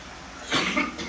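A single short cough burst from a sick child, muffled and moderately loud, over a steady background hiss.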